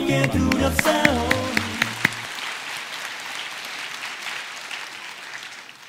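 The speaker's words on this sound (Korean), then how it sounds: "아유 박수 한번 다시" Church congregation applauding a children's church-school performance during a Sunday service: steady, dense clapping rises as a brief stretch of chordal music ends, then continues evenly throughout.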